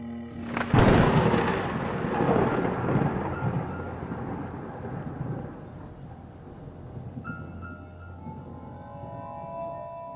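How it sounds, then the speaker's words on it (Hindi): A night thunderstorm: a loud thunder crack breaks near the start, then a long rolling rumble fades under steady rain, with no one speaking. "रात का समय था। बिजलियां जोर जोर से कड़क रही थी"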